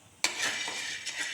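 Pigeon peas (thuvara) roast in a pan, a dense dry crackle starting abruptly, with a few sharper pops scattered through the close, steady frying noise.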